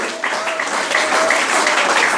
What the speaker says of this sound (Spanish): Dale un aplauso al Dios de Job.